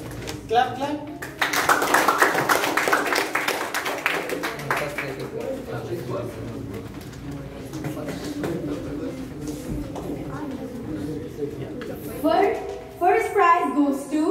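Applause at a youth leaders' prize-giving, where a group claps briskly for a few seconds after a short spoken line, then it tapers off under continued talking and murmur.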